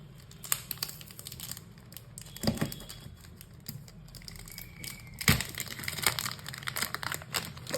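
A plastic cover comes off a MoYu cube stand with close, irregular crinkles and crackles, plus a few sharper snaps over a faint background hum.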